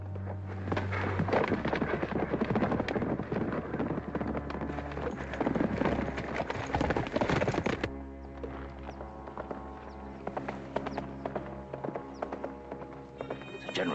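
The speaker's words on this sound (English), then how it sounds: "The general's horse." Hooves clatter rapidly and continuously at a gallop, loud and close, with a horse whinnying and voices shouting over the commotion.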